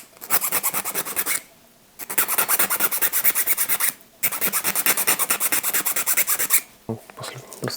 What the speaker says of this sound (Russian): я чуть ось эту подточу. Ну, обе оси сразу. Так вот напилим.